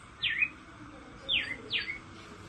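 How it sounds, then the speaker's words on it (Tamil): A house sparrow gives three short, bright chirps, one alone and then two in quick succession, fairly close over quiet background noise. "குருவி சிட்டுக்குருவி"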